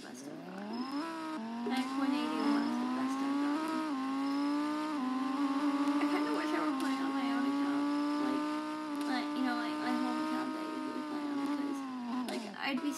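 A Lamborghini Huracan engine in the Driving Empire video game revs in one long, loud sustained tone that climbs and holds with a slight waver, then drops away near the end.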